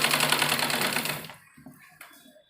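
A sewing machine stitches palazzo pants in a steady fast whirring run that slows and stops, followed by a few soft fabric handling knocks.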